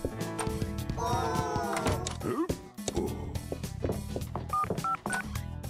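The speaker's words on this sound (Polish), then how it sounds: "Dzwonimy na telefon." Telephone dialing tones play in the video game Neighbours Back From Hell: a run of short, evenly spaced keypad beeps over busy game music and sound effects.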